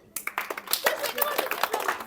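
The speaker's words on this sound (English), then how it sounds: "big clap for Anmol." Classmates clap for a student speaker at a school group discussion on village versus city life, a burst of quick, uneven claps starting sharply and continuing close by.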